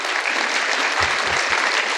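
A crowd applauding at a domestic workers' union meeting, a steady wash of many clapping hands, loud and sustained, with a few low thumps partway through.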